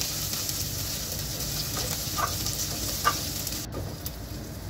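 Chopped onion for chicken tinola sautés in a pan with a soft continuous sizzle, broken by a couple of faint utensil taps and scrapes.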